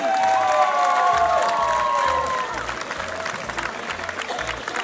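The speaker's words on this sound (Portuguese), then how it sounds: "Uma última salva de palmas para a Marcha dos Amigos do Rosário." Loud outdoor crowd applause and cheering for a popular march group at the Santo António festival parade, with whistles or shouts over the top and a steady thumping beat underneath.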